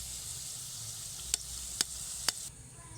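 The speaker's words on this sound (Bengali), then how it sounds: "তিন থেকে চার মিনিট হালকা আঁচে ভাজা হওয়ার পর নাস্তাগুলো খুব সুন্দরভাবে রেডি হয়ে গেছে" Potato and Maggi noodle snacks fry gently in a pan over low heat, giving a steady soft sizzle with three brief sharp crackles, before the frying hiss drops away near the end.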